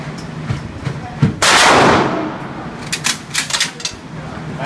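A rifle fires one loud, sharp shot at an outdoor shooting range, its boom ringing out and decaying, followed by a quick series of lighter metallic clicks and knocks.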